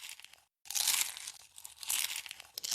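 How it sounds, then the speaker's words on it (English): Crunchy chewing of popcorn and caramel corn snacks, a rapid run of close, crisp crackling bites broken by a brief pause, loud and alone with no talk. "Am I chewing too loud?"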